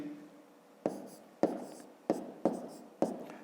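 A pen writes numbers during a fifth-grade math addition exercise: five crisp, evenly spaced strokes tap and scratch on paper up close, with no talking.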